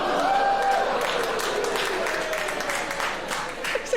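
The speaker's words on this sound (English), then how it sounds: "It's like three men clapping." A few scattered audience members clap at a live comedy show, a thin, sparse patter of hands that runs steadily under crowd murmur and fades slightly toward the end.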